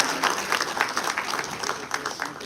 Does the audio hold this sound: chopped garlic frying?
no